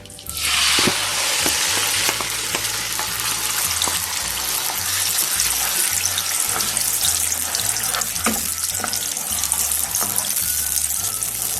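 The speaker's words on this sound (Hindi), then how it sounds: "इसको हम 4-5 मिनट भूनेंगे।" Loud, steady sizzling and spattering of a ground tomato, ginger, garlic and green chilli paste frying in hot oil, with occasional clinks and stirring noises throughout.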